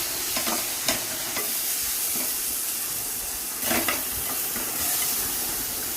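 Chopped tomato and ginger garlic paste sauté in a hot pan for chicken kulambu, giving a steady sizzle with scraping stir strokes and a few sharper spatula clatters.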